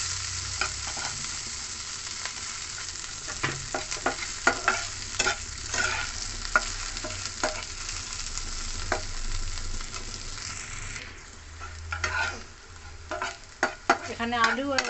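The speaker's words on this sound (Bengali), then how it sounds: "উচ্ছে পাতা যা আমি কুচিয়ে রেখেছিলাম দিয়ে দিলাম, এর সঙ্গে মিশিয়ে ভালো করে ভাজা ভাজা করে নেব" Potatoes and chopped bitter gourd leaves fry in a pan, a constant soft sizzle broken by repeated scraping and stirring clicks from a spatula, close up with no voices.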